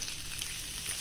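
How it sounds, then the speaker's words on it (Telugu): Mustard seeds spluttering and popping in hot oil in a pot, a steady dense crackle and sizzle running evenly throughout with no pauses, fairly close and moderately loud. "ఆవాల సౌండ్ వస్తుంది కదా ఫ్రెండ్స్"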